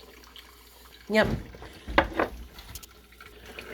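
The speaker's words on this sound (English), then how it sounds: "Too hot, so I'll add just a little bit of water." Water is poured into a cup of hot drink, a couple of brief splashing pours with short gaps between them, close and fairly clear, with a person briefly speaking.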